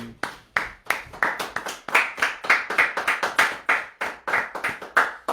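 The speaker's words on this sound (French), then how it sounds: "Applaudissons pour le Seigneur Jésus." A church congregation claps in praise, with sharp, distinct hand claps in an irregular, accelerating rhythm that stays close and fairly loud throughout.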